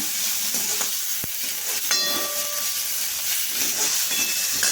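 Onion and garlic frying in hot oil in a pan for a green gram gravy, with a continuous bright hiss and sizzle, close and steady, and a couple of brief clinks.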